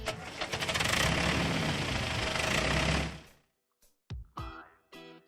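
An oil truck's engine runs loud and rough for about three seconds, then cuts off, followed by a few short separate bursts of mechanical noise.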